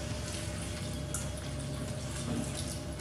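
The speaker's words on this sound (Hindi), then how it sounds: "अब हम यहाँ पर पानी डालेंगे" Water pours steadily from a glass into a pan of shahi paneer gravy containing butter and salt, making a continuous close splashing, gurgling fill that holds constant throughout.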